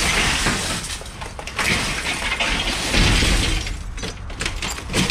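Broken glass clinks and crunches while being handled and dug through during a dumpster dive, with continuous close rattling and shuffling and a few louder scraping bursts.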